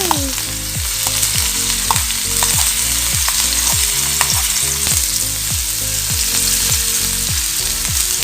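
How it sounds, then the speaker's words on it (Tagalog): Garlic or onion sautéing in hot oil for shrimp, a loud, dense, continuous sizzle up close with repeated rhythmic scraping and tapping of a spatula against the pan throughout. "init ng mantika, ibutang na to ang atong ahos o bombay"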